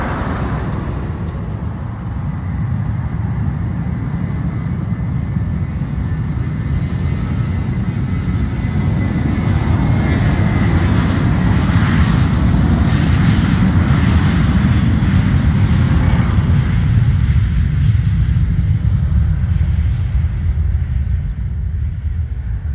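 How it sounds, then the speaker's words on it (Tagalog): An airplane takes off at Panglao International Airport, its engines making a loud, steady roar that swells slightly and holds for over twenty seconds, heard outdoors with no talking. "akong ipakita ninyo di ay na airplane nga padung mo lupad diri."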